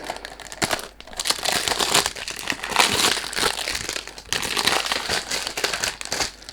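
Dense, continuous crinkling and rustling as packaging is torn open and handled during the unboxing of a Nayaat Soho Aura 100 ml eau de parfum, loud and close with brief dips, no voices.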